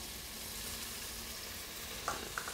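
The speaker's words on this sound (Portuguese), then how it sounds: "E vamos dar uma boa fritadinha nisso aí" Cumin, bell pepper and garlic frying in oil for a black bean chili, a faint, even sizzle that holds steady, with two small clicks of a utensil near the end and no voices.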